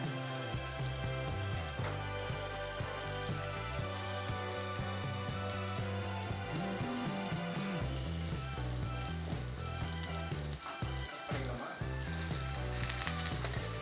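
Bun dosa batter fries in a small tempering ladle with a dense, steady sizzle that holds loud and close for the whole stretch, while background music plays alongside.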